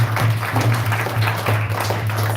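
Audience applause at a devotional stage program, a short burst of brisk, loud clapping over a steady low hum, with no talking.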